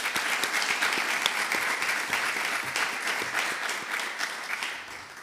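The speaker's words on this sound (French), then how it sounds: "Je vous propose de les applaudir." Steady applause from the audience at a municipal council swearing-in ceremony, dense, sustained clapping filling the room for several seconds before fading slightly.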